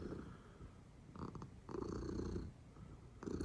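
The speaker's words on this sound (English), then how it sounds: "This is my cat. Listen to that." A cat purrs close up in soft, rhythmic rumbling pulses, each breath cycle rising and falling, fairly quiet and steady with no talking over it.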